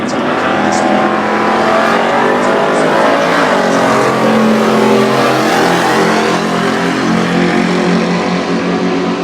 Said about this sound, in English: we've got Blaze Hanson, the VN Commodore racing for Wizard Fabrications